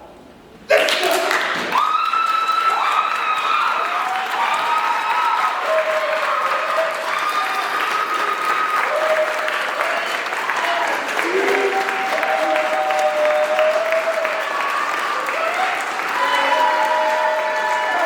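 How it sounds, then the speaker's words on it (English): A standing audience at a Black authors' event breaks into a sudden, loud round of applause that carries on steadily for well over fifteen seconds, with whoops and raised voices mixed into the clapping. "Now I want you to stand again and convince me that Livingstone education works with a round of applause."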